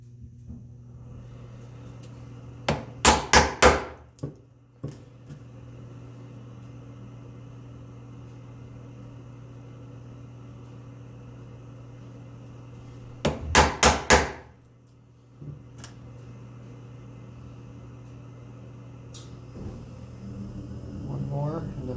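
A chisel is tapped while fitting a wooden spice-rack shelf to its sides: two quick bursts of three or four sharp, close strikes about ten seconds apart, over a quiet workshop hum.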